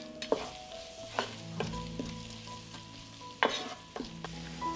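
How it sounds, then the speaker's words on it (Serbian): Ground sweet red paprika fries briefly in hot fat in a pot, a steady close sizzle broken by several spoon scrapes and taps against the pot, with no talking. "propržit ću to zajedno bukvalno 20 sekundi, samo da paprika pusti svoju aromu."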